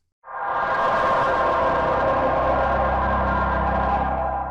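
A sustained, gritty synthesizer tone through a distortion effect switches on and holds steady at a loud level with a buzzing, saturated edge, then tapers slightly at the end.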